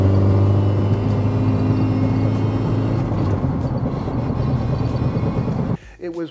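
A Porsche 944 with a failing pinion bearing drones loudly with a steady low whine and rumble for several seconds before the sound drops off abruptly near the end.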